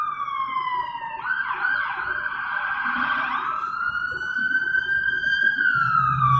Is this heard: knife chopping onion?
no